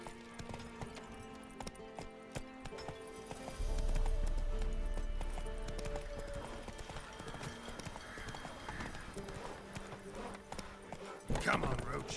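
Geralt's horse Roach trots in the game Witcher 3, hooves clip-clopping in a steady, close rhythm while a voice speaks briefly over them.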